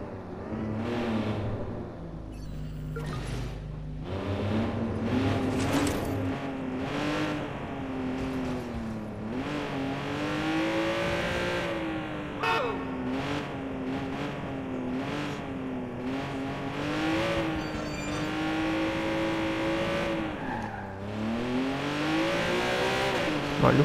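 A Lamborghini-like sports car is driven in the video game Watch Dogs 2, its engine revving and rising in pitch continuously as it accelerates, with tire squeals and passing traffic, loud and steady throughout.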